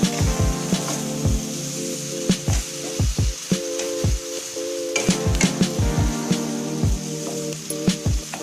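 Tomatoes frying in a pan over a high flame for tomato soup, a loud close sizzle with repeated scraping, stirring knocks of a spoon throughout and a steady hiss beneath, no one speaking.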